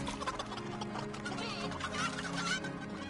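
Chickens clucking in the Fortnite Tycoon video game, a close, busy flock of overlapping clucks and short calls over a steady game background.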